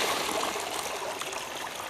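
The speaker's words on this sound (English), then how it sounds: "Now it's time to add your water." Water poured into a bowl to fill a small garden pond to the brim makes a steady, continuous splashing trickle up close, with no talk.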